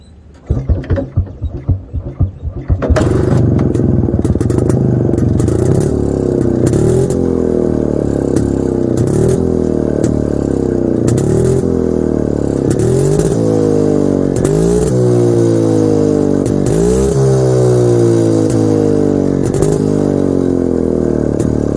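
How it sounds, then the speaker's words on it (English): A 1974 Jawa motorcycle starts after a few sputtering cranks, then idles and revs in a loud, close two-stroke exhaust note with repeated rising throttle blips. "Let's hear the exhaust note of the bike."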